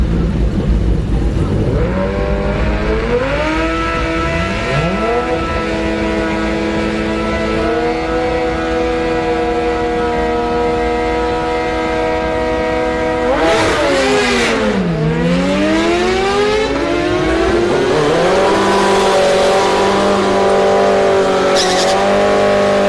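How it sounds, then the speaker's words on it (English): A Suzuki GSX-R motorcycle on the Orlando Speed World drag strip revs hard and steadily, its engine pitch climbing in long sweeps, dipping sharply midway, then winding up again over continuous loud track noise. "this is a gsx-r on the left"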